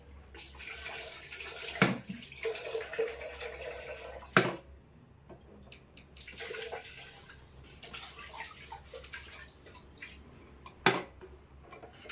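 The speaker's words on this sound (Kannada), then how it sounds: "ಅಕ್ಕಿನ ಇದರಲ್ಲೇ ತೊಳ್ಕೊಂಡ್ಬಿಡ್ತೀನಿ ಒಂದ್ಸತಿ" Rice being swished and rinsed in water, soft sloshing and grains rubbing, punctuated by a few sharp knocks against the vessel.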